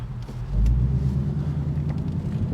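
A 2024 Ford Mustang in sport mode gives a deep, steady engine rumble from inside the car, swelling briefly early on and then holding at a low, even growl.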